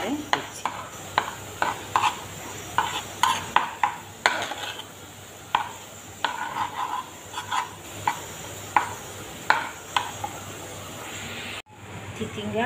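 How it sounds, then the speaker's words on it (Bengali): A spatula scrapes and stirs ridge gourd frying with egg in a pan, making rhythmic scraping strokes about once a second over a steady sizzle, close and clear. "এবার নেড়ে চেড়ে দিচ্ছি।"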